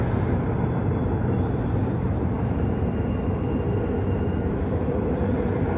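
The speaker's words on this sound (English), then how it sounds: "Trains passing each other." Two trains pass each other beside a creekside trail, producing a continuous loud, dense rumble and rolling roar that holds steady throughout with no talking.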